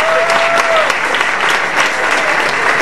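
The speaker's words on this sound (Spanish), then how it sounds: "Un aplauso grande para todos los que estuvieron cocinando." A crowd applauds the cooks, loud continuous clapping close by, with a brief whistle-like tone near the start and scattered voices underneath.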